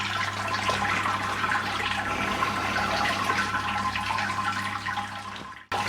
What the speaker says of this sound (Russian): Промывочной воды сразу первый дам.